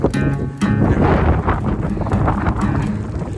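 Strong gusting wind buffets the microphone on a wet mountain hiking trail, a loud, steady roaring rush with heavy low rumble and no voices.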